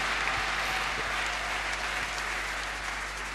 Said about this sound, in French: Acclamons fortement.